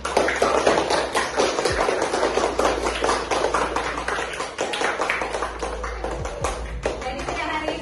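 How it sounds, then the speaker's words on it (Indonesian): A class of students clapping hands together in a classroom, a steady, busy patter of many hands throughout, moderately loud with a low background hum. "Beri plus tepuk tangan semuanya."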